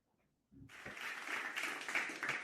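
An audience breaks into applause after a brief quiet moment, a dense, sustained clapping that holds steady and fairly distant to the end.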